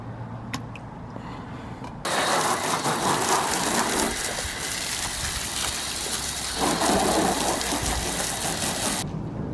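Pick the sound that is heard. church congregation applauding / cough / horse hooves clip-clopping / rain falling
rain falling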